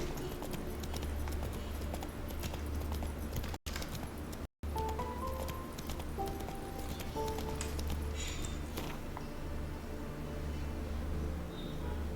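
Roach, Geralt's horse in The Witcher 3, gallops along with steady rhythmic hoof clip-clops, moderately loud and continuous, against ambient game sound, with a brief dropout partway through.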